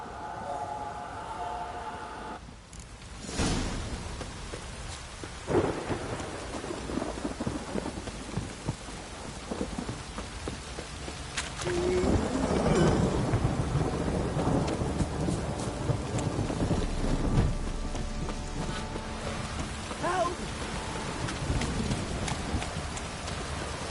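Steady rain pours throughout in the video game The Witcher 3, with deep rumbles of thunder rolling in and swelling louder midway before easing back into the downpour.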